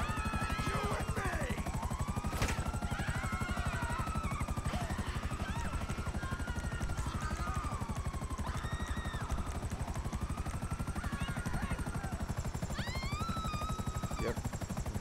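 Helicopter in GTA 5 flying with a steady, loud rotor drone throughout, mixed with scattered game effects and chirpy higher sounds.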